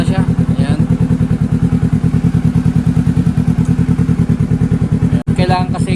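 Kawasaki Z650 or Honda ADV 350 motorcycle engine idles while warming up, a loud, close, rapid even thumping pulse with a brief dropout near the end as a person talks over it.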